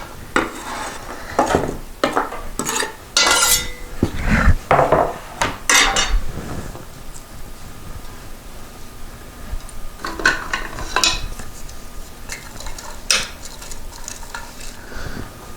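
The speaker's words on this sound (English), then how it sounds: "Go ahead and add celery and onion and let that start to cook." Celery and onion start cooking in a Brunswick stew pot, with loud spoon scrapes and pot clatter in irregular bursts over a low sizzle, close and with no talk.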